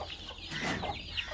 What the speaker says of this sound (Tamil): இப்போ ஒரு கோழி குஞ்சோடு இருக்குது.